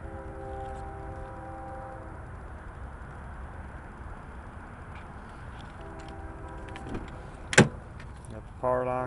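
Power windows and power door locks on a 2007 Mercury Grand Marquis: a steady electric motor whine runs twice, then a sharp lock clunk follows and a final short motor burst, all close up.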